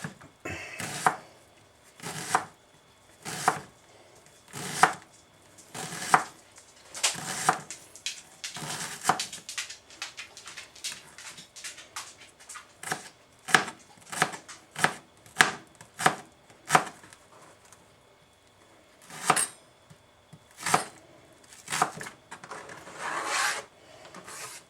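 A knife chops red onion on a cutting board in rapid, irregular runs of sharp close knocks, broken by short pauses, with no talking.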